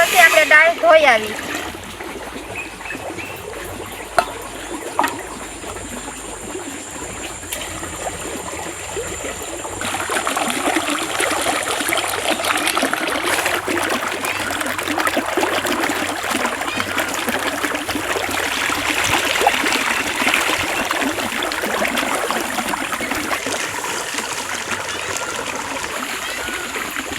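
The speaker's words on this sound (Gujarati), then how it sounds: "દાળનું પાણી મૂકી દે ગરમ થવા ને પછી આપણે દાળ ધોઈ આવી" Chana dal and moong dal are washed in water for a Kathiyawadi dal bati meal, with a steady pouring and splashing sound that runs for the whole stretch and grows fuller partway through, while people talk under it.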